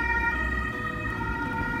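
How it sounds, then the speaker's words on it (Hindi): An ambulance siren wails steadily on an early-morning road as the vehicle speeds past, loud and continuous with a low traffic rumble beneath. "ये जो है अपना एम्बुलेंस तेज़ी से बढ़ती चली जा रही है"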